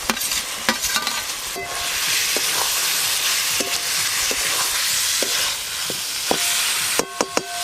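Fried potatoes stirred into spice masala in a pan while cooking katla fish kalia, with a steady close sizzle and repeated sharp scrapes and clinks of the spoon against the pan throughout, no voices.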